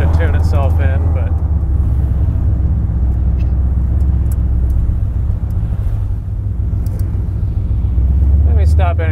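A 430-horsepower car engine idles and runs with a steady deep rumble, slightly surging, close by, while people talk briefly near the start and end.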